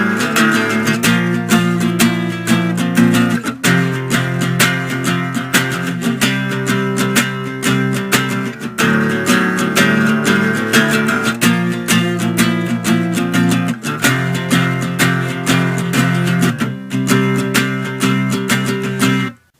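The chorus of a song is played on guitar as loud, sustained, heavily distorted chords in repeated phrases with brief breaks between sections, alone without speech.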